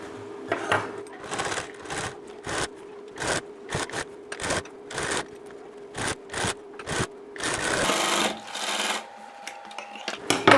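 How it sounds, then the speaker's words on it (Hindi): A sewing machine stitches around a blouse neckline through lining and outer fabric, running in repeated short bursts with brief pauses, then a longer continuous run near the end. "तो वो सिलाई मैं आपके लिए लगा के दिखा देती हूँ"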